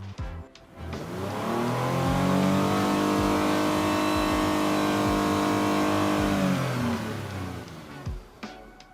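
A Lexus RX engine revs up steadily to 6,000 RPM, holds a high, loud whine for several seconds, then drops back down to idle.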